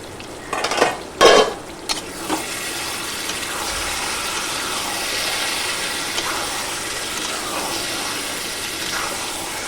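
Jackfruit curry (vegetarian young jackfruit dalna) stirred and sautéed in a pan: a few loud spoon-and-pan clanks early on, then a steady broad sizzle throughout, close and without talk.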